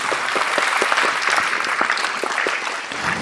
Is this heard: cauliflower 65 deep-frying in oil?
no